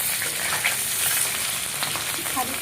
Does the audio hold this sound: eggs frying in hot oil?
yes